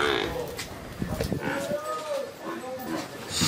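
Buffaloes low on a dairy farm in Sialkot, deep moos sounding nearby among other farm noise while people talk over them.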